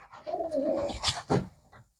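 A pigeon gives a short, close, fairly loud coo, a low warbling call with a couple of brief follow-up notes, heard alone in about two seconds among a group of ten pigeons.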